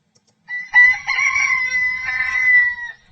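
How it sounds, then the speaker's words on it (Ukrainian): A rooster crows loudly and close by, one long drawn-out call lasting a few seconds after a brief silence. "це півник."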